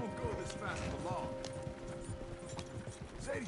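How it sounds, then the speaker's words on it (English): Horses gallop in Red Dead Redemption 2 with a rapid, rhythmic clip-clop of hooves and creaking tack under voices talking throughout. "Horses won't go this fast for long."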